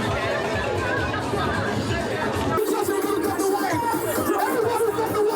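Dense crowd chatter at the Junkanoo Carnival in Nassau, Bahamas, a steady, loud outdoor hubbub of many overlapping voices that continues throughout.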